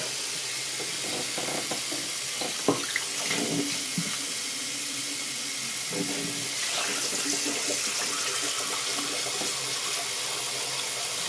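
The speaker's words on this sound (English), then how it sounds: "we've got our water running to the point where it's pretty warm" Warm tap water runs steadily into a shaving scuttle as a continuous hissing stream, with a few faint clinks and splashes partway through.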